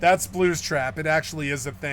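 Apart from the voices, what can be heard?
No everyday noises stand out.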